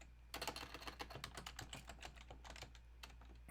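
Computer keyboard typing while a password is entered, quick irregular bursts of clicking keys, close but fairly quiet over a low steady hum.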